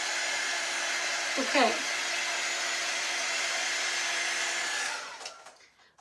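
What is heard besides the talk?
hair dryer drying craft sign transfer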